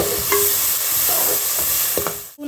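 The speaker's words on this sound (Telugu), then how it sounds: "ఈ 2 టమాటాలు అండి పెద్దవి, 4 పచ్చిమిర్చి, ఇవి కూడా ఫ్రై చేసుకుందామండి టమాటా మగ్గే వరకు." Large tomatoes and green chillies fry in hot oil in a pan, giving a steady close sizzle with a few scraping stirs and clinks, no voices.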